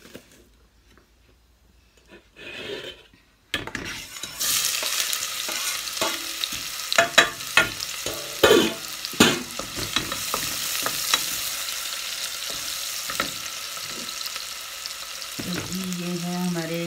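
Onions frying in a pan, an abrupt onset of dense hissing sizzle after a near-silent start, with clattering stirs and scrapes running over the steady crackle, close up.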